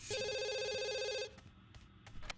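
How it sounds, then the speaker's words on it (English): A telephone rings in The Sims 2, one loud electronic trill holding steadily for just over a second before cutting off, leaving quiet game ambience and soft clicks. "Okay, go answer the phone."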